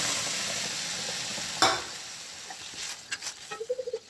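Sprouted moth beans tipped into a hot masala tempering of red chilli powder and asafoetida: a sharp hiss as they land, then softer sizzling and a run of quick spoon clinks against the pan.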